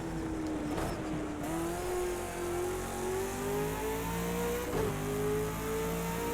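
A race car engine drones steadily at Bathurst in Project Cars 2, holding a sustained rising pitch with a brief gear-shift dip and a clear, close-up tone throughout.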